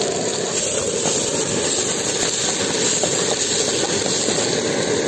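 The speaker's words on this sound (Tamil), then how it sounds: "காளானை பொறிச்சு அதே தட்டியில் தான் இப்போ நம்ம வெங்காயத்தையும் வதக்கிட்டு இருக்கோம்" A steady, dense sizzle hisses continuously as chopped onions fry on a hot griddle after mushrooms, at a roadside stall, close and fairly loud with no talking.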